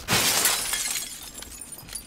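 Hard glass breaking in PUBG at a military base: a single bright crash of shattering glass that rings out and trails into scattered tinkling fragments over about two seconds.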